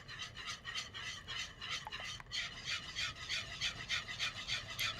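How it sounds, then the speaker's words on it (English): Shredded cheddar is whisked into a warm sauce for beer cheese potatoes, with a rhythmic scraping and rasping of the whisk repeating steadily and fairly close, with no talk. "Whisk it in."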